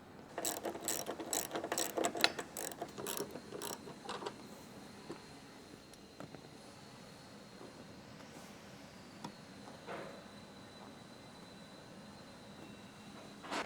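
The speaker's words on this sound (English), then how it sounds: "We're going to tighten these guys until the bonded washer starts to squish out." A ratchet wrench tightens roof rack bolts on a Subaru Outback with rapid, close clicking bursts at first, then fewer scattered clicks and metallic sounds over a quiet background.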